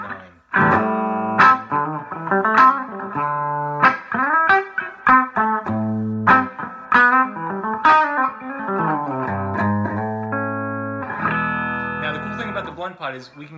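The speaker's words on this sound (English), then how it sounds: "And then finally the bridge pickup all by itself," An electric guitar played through the bridge pickup alone, a Seymour Duncan 59 on a Coyle Model R solidbody, picks out a clear melodic phrase of single notes and chords, close and moderately loud, with no talking.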